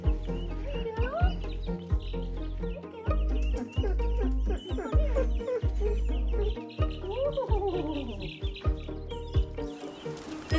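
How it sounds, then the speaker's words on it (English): Young chicks and guinea fowl outdoors cluck and chirp continuously at close range, a busy overlapping chatter of short calls and peeps with low thumps underneath. "This is their very first time outside, and the first time the guineas and chicks have ever seen each other."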